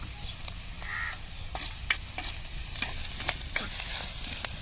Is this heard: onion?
yes